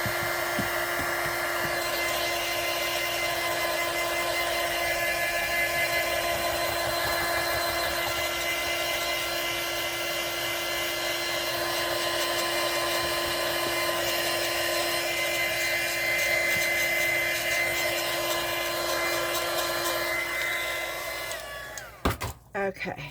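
Heat tool drying a crafting project, a loud steady blowing whine running continuously for over twenty seconds before cutting out with a few clicks and handling noises at the end.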